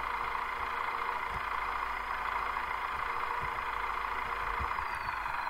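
Simulated MTZ-892 tractor cultivating a field in Farming Simulator 2015, a faint, steady mid-pitched engine drone with a few soft low thumps, no talking.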